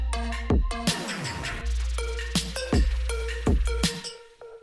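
An electronic beat reaching a transition where the kick drum drops out, leaving booming bass hits with falling pitch, a swelling noisy sweep and bright synth stabs in a steady groove, with no talking.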